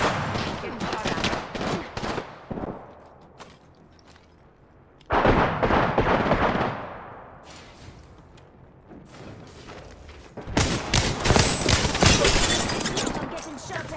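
Apex Legends shooter combat with repeated bursts of close automatic gunfire in loud clusters separated by quieter gaps, mixed with impact crackles and game sounds.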